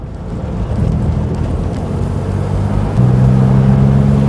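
A Gilbern Invader Mk3 sports car engine drones loudly and steadily while driving, its pitch stepping up into a stronger, more sustained tone partway through, with no talk.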